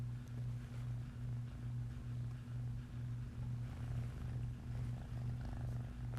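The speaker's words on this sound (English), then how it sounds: "Can you hear my cat purring?" A cat purring right beside someone in a kitchen, a soft, steady rumbling purr pulsing in a regular rhythm, faint and close, with no talking.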